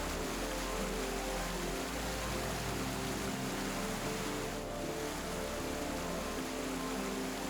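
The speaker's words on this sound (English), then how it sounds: "Anywhere from 100 to 400 cubic meters of water crashing through every second depending on the season" A high-volume waterfall in Sweden, dropping 14 meters with 100 to 400 cubic meters of water per second, roars as a steady, dense wash of rushing water heard from some distance.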